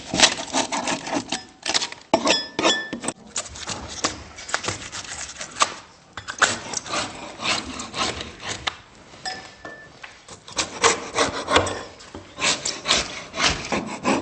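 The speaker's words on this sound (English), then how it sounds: "Simply take a paint scraper." A paint scraper scrapes and peels dried spray foam insulation off a wall in repeated rough, rasping strokes, loud and close, with brief pauses between bursts.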